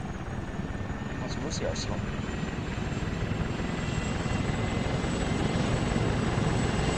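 Helicopter turbine spooling up in the military game Arma 3, a steady broadband whine and rotor rumble that holds loud throughout, with a voice talking briefly over it.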